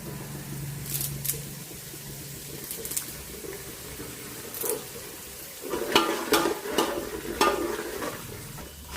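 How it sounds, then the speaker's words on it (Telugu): Fresh curry leaves, some torn and some whole, dropped into hot oil with frying chana dal and urad dal for tamarind pulihora, giving a low steady sizzle with sharper crackling bursts in the second half and occasional stirring clinks. "కరివేపాకు వేస్తాము."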